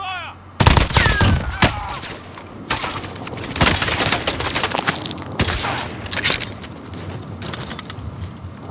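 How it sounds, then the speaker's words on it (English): Gunfire from Call of Duty Warzone: repeated loud bursts of shots and sharp cracks over about nine seconds, with brief pauses between volleys and a faint voice near the start. "Taking fire."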